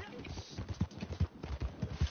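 Horse hooves clip-clop in a steady, rhythmic gait in the video game Red Dead Redemption 2, fairly close, mixed with a voice talking over the game sound.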